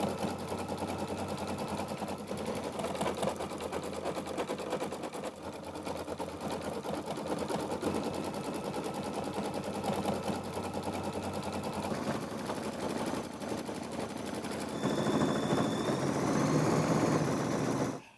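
An embroidery sewing machine stitches fill stitches for a bicycle applique on a quilt, a steady, continuous mechanical whir with rapid needle chatter that runs throughout and grows slightly louder and brighter near the end.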